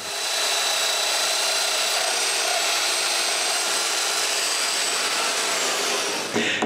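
A power drill whines steadily and loudly, boring holes in wood to assemble a closed bookcase in a woodworking shop, then winds down at the end.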